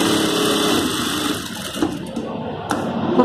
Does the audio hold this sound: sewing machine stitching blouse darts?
yes